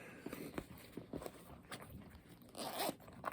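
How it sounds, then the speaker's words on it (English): A zipper inside a thick leather knife pouch is pulled in several quick, quiet rasps, with a slightly longer, louder run near the end, heard close up without speech. "This one has a zip inside to keep your filters or whatever you want to put in them."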